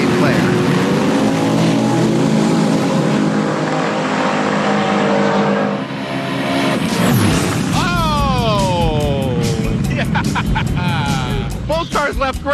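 A 1955 Plymouth Savoy and a 1956 Chevrolet race in a drag event: loud, constant engine roar that climbs in pitch as the cars accelerate hard and then shift. An announcer talks over the engines.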